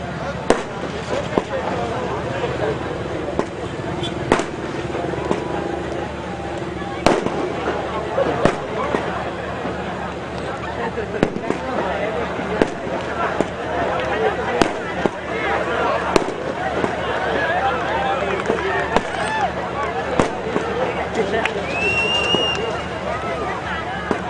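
Firecrackers burst in rapid, irregular cracks and pops at an outdoor village cricket tournament match between Kopar and Dhansar at Pendhar, 2017. The bangs are loud and continuous, over a crowd's murmur and a commentator's voice.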